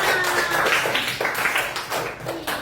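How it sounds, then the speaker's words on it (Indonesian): A classroom of pupils claps together for a classmate, producing a dense, steady patter of many hands that fills the whole stretch at close range and stays fairly even before easing slightly near the end. "Tepuk tangan untuk Nak Ilham"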